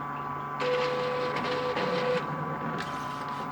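A UV printer built from a converted tablet printer starts up, its carriage motor whirring and whining in steady mechanical bursts with a sustained electronic tone, close and fairly quiet, no talk.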